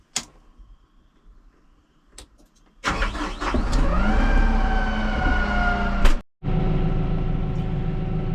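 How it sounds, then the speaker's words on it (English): A 2022 Kubota M6-131 tractor's diesel engine cranks and catches, then settles into a loud, steady idle after a brief cutout, with a few clicks before it turns over and no talk. "Now I'll crank the tractor"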